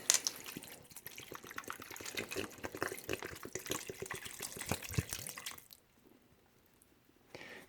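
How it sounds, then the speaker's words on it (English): Bottled water splashes and trickles steadily as it is poured over tamarind pods in a strainer. The sound is close and fairly quiet, then stops abruptly near the end, leaving near silence. "Gonna add the bottled water."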